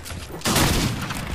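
Gunfire in a Fortnite 2v2 boxfight: a sudden short burst of rapid shots fills the second half of a brief moment, loud and dense.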